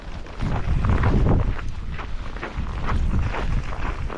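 Strong wind of a winter storm in Canada, gusting hard against the microphone in rough, surging waves of low buffeting noise that rise and fall without pause.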